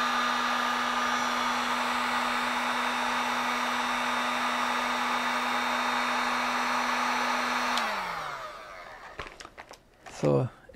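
A hair dryer blows heat onto a DHT11/DHT22 temperature sensor wired to an ESP32, a loud steady close whirring roar for about eight seconds before it winds down, followed by a few faint handling clicks and rustles.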